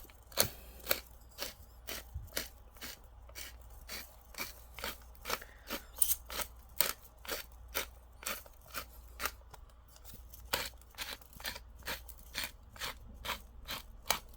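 A pepper grinder crunches out steady, evenly spaced cranks over a sirloin steak, about two dry grinding bursts per second, close and fairly quiet with no voices.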